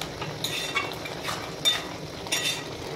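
Curry cooks in a pan while being stirred: a faint, steady sizzle punctuated by several soft scraping bursts from the spoon.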